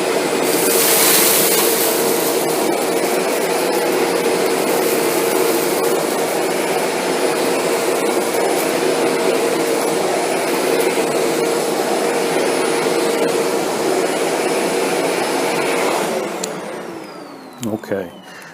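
A Shark Apex vacuum cleaner runs in deep carpet mode with a loud, steady whine and roar, close by, continuing for most of the time before cutting out near the end amid a few handling knocks.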